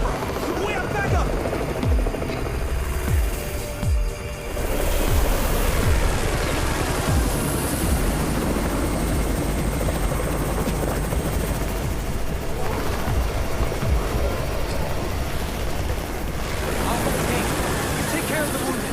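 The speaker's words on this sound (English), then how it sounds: "It's the Raven's chopper!" A helicopter in the Undawn zombie survival game roars continuously with a loud, steady rotor thrum, and brief bursts of gunfire-like action mix in.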